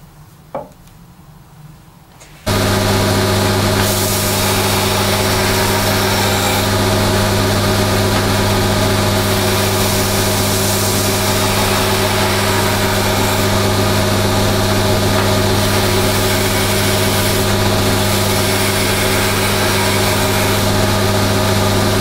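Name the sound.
belt grinder grinding a knife blade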